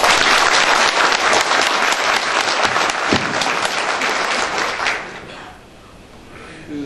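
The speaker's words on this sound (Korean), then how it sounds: "우리 박수 한번 쳐주시죠." Sustained, dense audience applause at a fire chief's inauguration ceremony at Seodaemun fire station in Seoul, loud and steady for about five seconds before quickly dying away.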